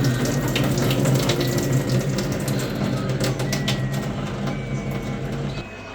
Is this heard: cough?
no